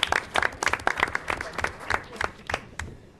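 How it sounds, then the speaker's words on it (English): An audience at a regional strategic planning presentation breaks into applause, a burst of fairly sparse, distinct claps from a modest crowd that thins out and fades after a few seconds. "Let's get an applause for that."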